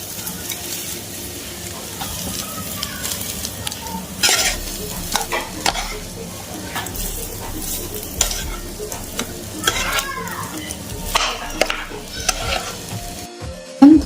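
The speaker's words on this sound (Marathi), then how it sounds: "आता हे व्यवस्थित हलवून घेऊया." Vadapav filling stirred steadily in a pan, with a continuous scraping and light sizzle of frying potato mixture, close and fairly loud, with occasional utensil knocks and no talking.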